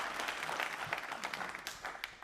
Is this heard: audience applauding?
yes